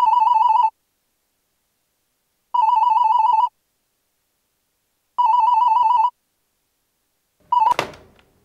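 A telephone rings three times in clean, evenly spaced electronic bursts, each about a second long, and a fourth ring is cut short by a thunk as the handset is lifted. The ringing is loud and close, with silence between rings.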